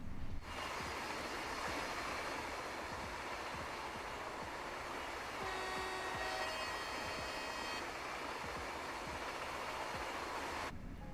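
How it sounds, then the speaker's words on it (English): A locomotive horn sounds in Train Sim World 6, a sustained tone of about two seconds rising over a steady, loud rumble of the moving train, with no voices. "That doesn't sound too dissimilar to some of the train horns I've heard in Morocco"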